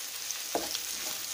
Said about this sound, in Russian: грудинка обжаривается с лучком